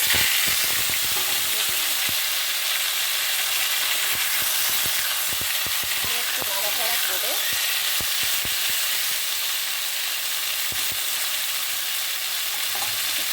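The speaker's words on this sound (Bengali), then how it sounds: "আমি কালো জিরে ফোড়ন দিয়ে দিলাম" Nigella seeds temper in hot oil for a vegetarian taro stolon curry, giving a continuous loud sizzle scattered with sharp crackling pops all the way through.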